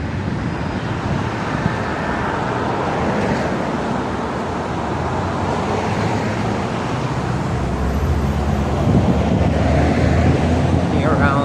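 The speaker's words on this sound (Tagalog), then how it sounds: "It's windy." Gusty wind buffets the microphone while walking outdoors in downtown Toronto, a loud continuous rumbling roar throughout with a voice faintly underneath.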